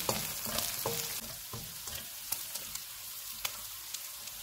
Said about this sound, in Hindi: आधा कप शिमला मिर्च डालेंगे। इसको 2 से 3 मिनट तक भूनेंगे।